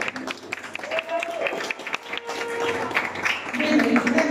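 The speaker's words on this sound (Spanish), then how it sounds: "Fuerte el aplauso." An audience applauds at a Colombian youth mariachi performance celebrating a birthday, a steady wash of clapping with a voice talking over it and tonal sounds rising near the end.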